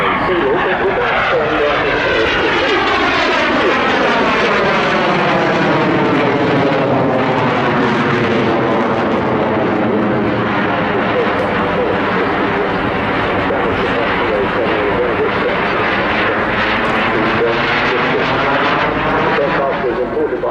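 A BAC Strikemaster jet trainer in immaculate training colours flies a display at the Southport Airshow, a loud continuous engine roar that rises and falls as it passes, with an announcer talking over it throughout.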